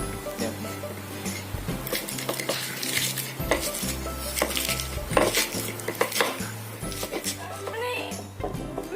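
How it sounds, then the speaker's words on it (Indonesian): Grinding red chili, turmeric and ginger in a stone mortar, with repeated scraping, knocking and clattering strokes of stone on stone, close and busy, alongside a low steady hum. "Kita akan mengulek semua tadi yang dimasukkan ke cobek."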